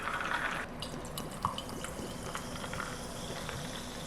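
Sparkling water poured into a glass of green tea sweetened with cane sugar gives a soft, steady fizzing hiss with faint drips, quiet and close, with no talking.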